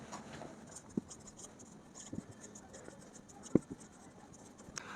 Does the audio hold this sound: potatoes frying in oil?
no